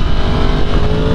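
A Yamaha MT10 motorcycle engine roars loudly and continuously at high revs, a dense close-up engine drone with no voices.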